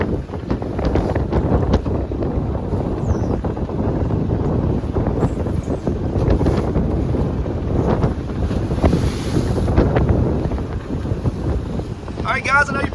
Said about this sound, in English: The wind's blowing really hard.